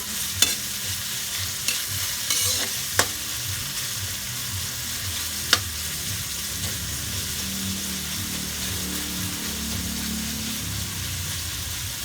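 Tomatoes sautéing in a pan for a chicken and pork mechado, giving a steady sizzle and stir noise throughout with a few sharp utensil clicks near the start and one midway.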